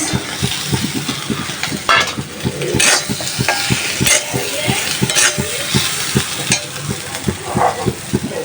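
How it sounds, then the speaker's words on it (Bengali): Fish frying in a pan for a home-style curry, with steady close sizzling broken by frequent rhythmic scraping and stirring strokes of a utensil against the pan. "মাছগুলো ভেজে নিচ্ছি"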